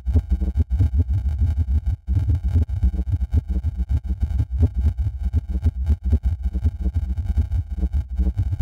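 Buzzy, distorted synthetic tone produced by a 16-neuron machine-learning patch in Pure Data failing to recreate an oscillator, pulsing in rough, choppy bursts with a brief dropout, loud and continuous without speech.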